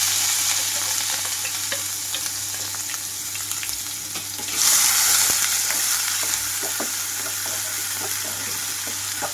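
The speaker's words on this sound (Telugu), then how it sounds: "ఉల్లిపాయలు కొంచెం కలర్ మారే వరకు వేయించుకుంటున్నాను" Steady sizzling of onions and green chillies frying in oil after tempering, with scraping stirring strokes throughout; the sizzle swells louder briefly near the middle. No talking.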